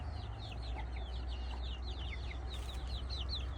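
Several breeds of home-raised backyard chickens cluck softly and far off under a steady low background hum, with a run of high chirping calls across the whole stretch and no talking.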